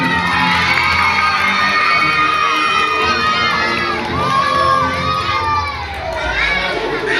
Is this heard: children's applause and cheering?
yes